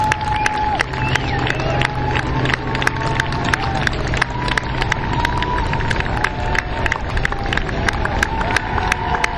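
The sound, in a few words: crowd applauding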